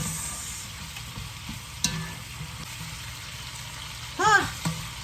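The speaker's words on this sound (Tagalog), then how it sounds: "now let's put the meat back in this pan. And then, halo-halo. Mix, mix, mix." Meat and string beans for adobong sitaw tossed together in a frying pan, a steady sizzle under scraping stirs with a clack of the utensil and a brief voice near the end.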